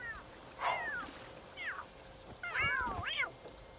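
A cat in The Sims 3 life-simulation game meows several times, rising and falling plaintive cries spaced out over a low background hum, with no talking.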